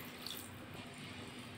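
A small amount of water is poured into a pan of spiced capsicum, potato and tomato curry to make the gravy, giving a soft, steady watery rush that stays faint and even throughout.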